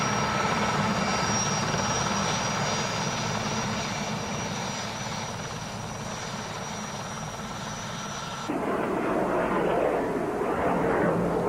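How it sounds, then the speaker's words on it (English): A Puma medium-sized helicopter taxis out at an airshow at Biggin Hill airfield, its engine and rotor producing a loud, steady turbine whine and thrum that shifts in tone partway through. "the Puma, medium-sized helicopter, is just taxiing out ready for his display"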